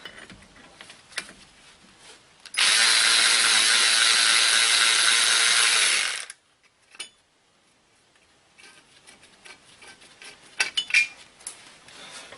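A hand ratchet clicks rapidly and loudly for about four seconds while removing the wheel hub bolts on a 1999 Buick LeSabre, followed by a single knock and quieter shop handling noises.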